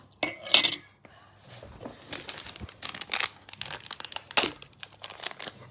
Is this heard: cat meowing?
no